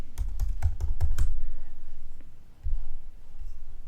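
A username and password are typed on a computer keyboard: a quick run of crisp key taps near the start, then a few scattered presses over a low steady hum.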